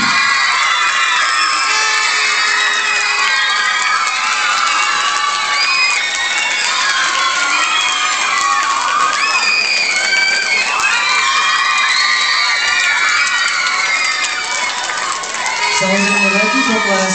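A crowd of children at a youth fitness competition awards ceremony cheers, shouts and applauds the winners, loud and sustained throughout, with bright overlapping voices filling the space.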